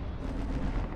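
An airstrike explosion in a video game, heard as a brief, heavy, rumbling boom that fills the moment without any speech.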